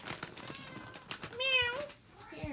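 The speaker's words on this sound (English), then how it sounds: "I don't know if you can hear her meow." A house cat meows close by, with a clear, drawn-out rising meow in the middle and a shorter meow near the end, set against quiet indoor background noise.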